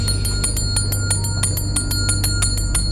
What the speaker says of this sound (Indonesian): Gini Robi, kalau udah seperti ini saya butuh lonceng ajaib saya.